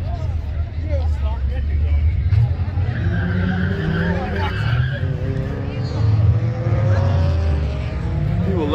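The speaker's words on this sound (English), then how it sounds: "People love squealing their tires" Car tires squealing at a Jefferson City, Missouri car meet, a sustained screech with engine roar over steady crowd noise, rising and falling across the whole stretch while people talk nearby.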